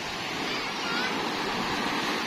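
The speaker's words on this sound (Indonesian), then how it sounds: "Wih, ombaknya kecil." Small ocean waves wash and break near the shore at a river-mouth beach, a steady close broadband surf rush without distinct individual crashes.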